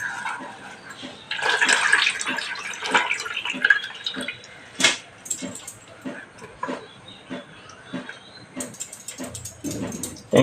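Sea fenugreek greens are washed by hand in a vessel of water, giving intermittent sloshes, splashes and drips with sharp clattering handling noises, close and without talk.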